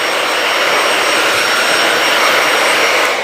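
A hair dryer blows in a continuous, loud, close roar of air during a straight blow-dry, even and unbroken until it eases off slightly near the end.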